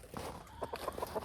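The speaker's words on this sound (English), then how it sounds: "Same thing, Rhode Island Red Rooster." Brief run of quick clucks from a young Rhode Island Red rooster, several short close calls in rapid succession.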